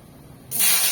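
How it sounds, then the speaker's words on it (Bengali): Chopped tomatoes dropped into hot oil already fried with chillies, cloves, cardamom and cinnamon, setting off a sudden loud, bright sizzle that starts halfway through and stays strong to the end. "ওর মধ্যে দিয়ে দেবো আমার কেটে রাখা টমেটো"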